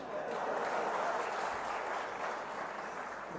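An audience claps steadily through a political speech event, a dense, even patter of many hands that holds at moderate loudness from start to end with no voice over it.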